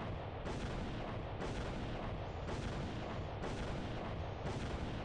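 A turret in the video game Redline 1999 is blasted with repeated heavy, booming shots at a steady rhythm, about one every second, loud and continuous without speech.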